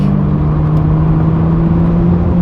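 A Nissan Skyline R33 GTR V-Spec with upgraded Garrett turbochargers drives at speed, its engine producing a loud, steady droning hum heard close and alone, with no distinct pops standing out.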